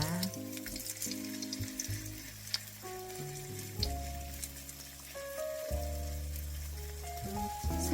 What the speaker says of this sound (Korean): 뒤집어 주기 좋을 정도로 익으면 뒤집어 주면서 구워줍니다.